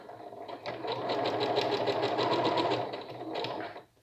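A sewing machine runs a straight stitch on a zippered pouch, a rapid steady needle rattle starting after half a second, holding level, dipping briefly near three seconds, then stopping just before the end.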